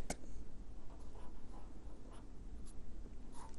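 Pen scratching across paper during a land reclamation lesson for agriculture students, a steady soft scribbling that runs throughout with small strokes, close and fairly quiet.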